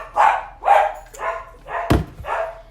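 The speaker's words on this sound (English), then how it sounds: "these dogs are driving me crazy" Several dogs, including one named Ollie, bark in a steady series of about five loud, close yaps and woofs, with a sharp thump near the end, in a home during a daytime live stream.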